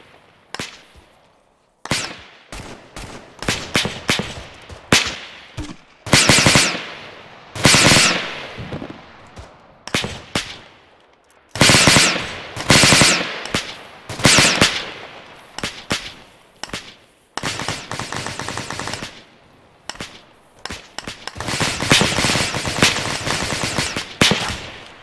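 Rapid bursts of machine gun fire in the military video game Bourbon Warfare, loud and close, coming in repeated volleys with short gaps between them.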